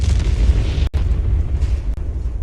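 A cinematic Big Bang explosion effect booms as a deep, rolling roar, with a sharp break near the middle before the heavy low rumble carries on. No voices are heard.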